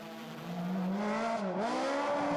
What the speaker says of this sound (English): Not an easy car, the BMW, but Ponce has plenty of experience on these